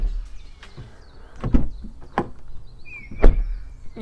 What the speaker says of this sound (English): you want a premium car to have a premium car door shutting sound